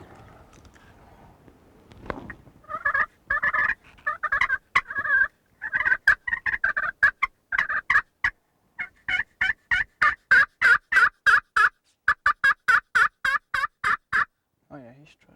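A Rio Grande wild turkey tom gobbles repeatedly in rapid rattling bursts, loud and fairly close, in a rhythmic series with brief pauses between calls, heard on its own outdoors.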